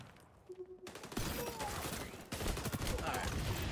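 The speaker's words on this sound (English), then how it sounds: "Alright, I'm sniping." Sniper rifle gunfire in the shooter XDefiant: after a quiet start with a brief voice, heavy loud firing begins near 1.1 seconds and surges again around 2.3 seconds, filling the rest with dense close battle noise.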